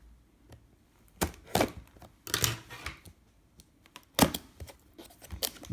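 A blade cuts open a Sony Cyber-Shot DSC-W800 camera bundle box in a series of sharp, close slicing and tearing bursts at irregular intervals, with quiet pauses between them.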